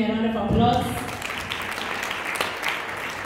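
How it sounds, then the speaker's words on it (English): An audience at a wedding-style gathering claps in a broad wash of applause, steady and moderately loud, while a voice talks over the start. "Can you give him a round of applause?"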